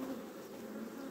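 Honeybees drone in a steady, dense buzz at an open hive where the worker bees have just been fed, a close and continuous hum with no voices over it.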